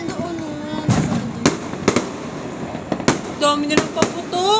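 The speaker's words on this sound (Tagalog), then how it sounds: "Dami nilang paputok." Fireworks and firecrackers exploding outdoors for New Year 2024: several sharp, loud bangs at irregular intervals over a crackling, smoky background, with voices chattering between the blasts.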